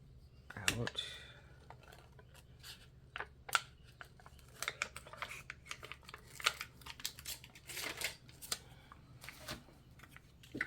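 Scissors snip out a textured paper tag in quick, irregular close clips and crinkles of paper, fairly faint, with a person talking softly at times.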